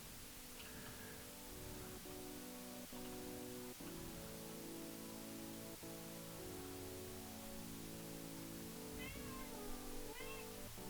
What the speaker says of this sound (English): That is the cat.